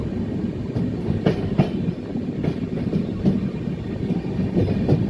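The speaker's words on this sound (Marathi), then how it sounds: "आता आपली ट्रेन पूर्णा नदी क्रॉसिंग करत आहे" The Marathwada Sampark Kranti Express crosses the Purna river on its Nanded to Chhatrapati Sambhajinagar run, a steady loud rumble with regular clickety-clack wheel beats heard from on board.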